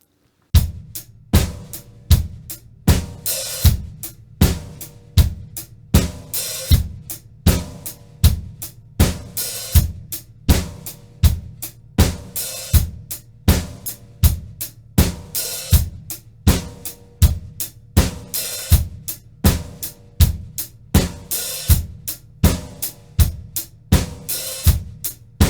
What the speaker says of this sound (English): with the 8th notes on the right hand and 2 and 4 on the snare drum.